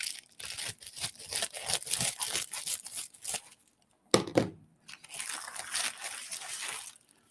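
Packaging crinkles and tears close up in rapid bursts, then stops briefly before a sharp rip and more rustling cardboard and plastic.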